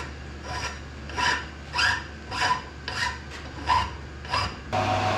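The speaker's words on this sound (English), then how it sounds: "So I'll finish deburring this one" A cast BSA Bantam triple clamp is deburred by hand with a file, giving about eight steady rasping strokes in a regular back-and-forth rhythm, close and clear.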